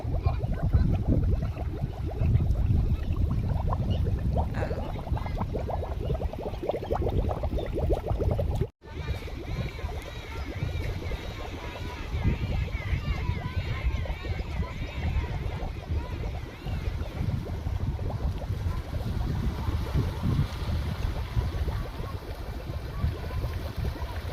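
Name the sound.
floodwater bubbling and flowing over village road after rain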